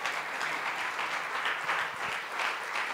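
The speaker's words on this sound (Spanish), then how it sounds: "Aplaudan al Señor." Congregation applauding during a church service, a steady dense wash of clapping that fills the whole stretch without pause or break.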